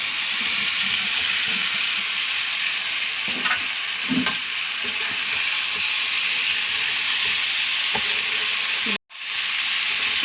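Chicken sizzles loudly in a pan with tomato, chili, coriander, turmeric and masala while being cooked for chicken biryani, a dense continuous fry with occasional stirring scrapes and no talk, cut by a brief dropout near the end.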